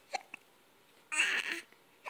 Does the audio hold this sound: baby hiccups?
yes